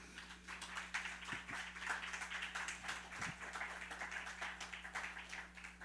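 A church congregation applauds loudly for a father during a sermon, a dense, steady wash of many hands clapping that fills the room evenly throughout, with a constant low electrical hum underneath.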